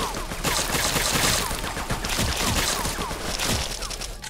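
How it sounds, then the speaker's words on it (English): Rapid gunfire in a Roblox GTA-style hood video game, loud overlapping bursts of shots rattling in quick succession throughout, dense and close with no pauses. "Who you shooting at?"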